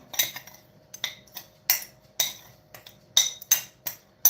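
A spoon clinks sharply against a bowl while mixing salt and sugar for curing trout, in a steady, brisk rhythm of repeated taps and scrapes, close and distinct.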